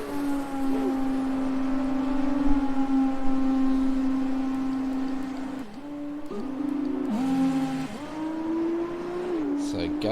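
A Formula 2 car running on the Mexico track in a racing game during qualifying under overcast skies: a steady, buzzing engine tone that holds, then dips and rises as the driver lifts and accelerates, close and continuous.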